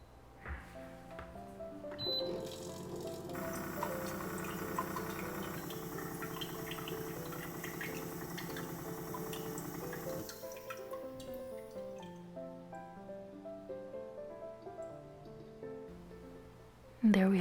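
Water from a Bluevua filtration system running into a jar, a quiet steady trickle and pour lasting over ten seconds, then thinning out and ending with a brief louder knock at the end.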